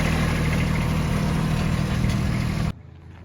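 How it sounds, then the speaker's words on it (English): A tractor engine runs loud and close with a steady rumbling drone, then drops away abruptly near the end, leaving quieter background. "Callan bringing the tractor in through the neighbors"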